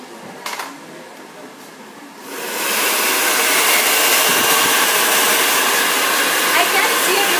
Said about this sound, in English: So we're going to dry her hair now.